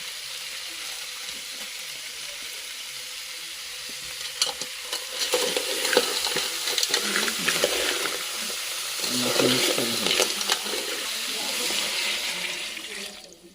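Crab masala sizzles and crackles in a hot pan on a wood-fired stove, the frying hiss swelling and fading while stirred, with a quieter stretch at the start.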